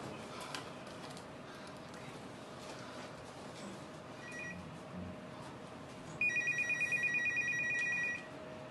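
A telephone ringing at the start of a call, heard as a repeating pulsed ring tone entering late and running about two seconds over a quiet indoor background.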